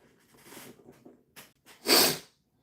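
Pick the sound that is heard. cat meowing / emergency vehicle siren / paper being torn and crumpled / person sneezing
person sneezing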